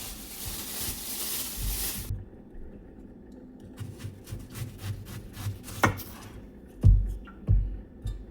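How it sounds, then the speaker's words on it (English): Quiet, irregular knife taps and scrapes on a cutting board while chopping celery, carrot and onions, with a couple of louder chops near the end over a soft background hiss. "I was just attempting to try to be quiet with the chopping"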